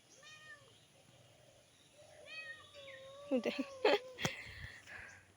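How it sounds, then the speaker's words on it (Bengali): Several cat meows, thin and rising, come in short bursts at the start and middle, followed by a few sharp clatters near the end. "ম্যাও ম্যাও ম্যাও করতেই আছে"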